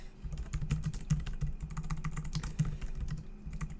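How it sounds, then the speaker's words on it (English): Fingers type steadily on a computer keyboard at close range, a quick irregular run of clicky keystrokes with no voices. "Can you guys hear me typing?"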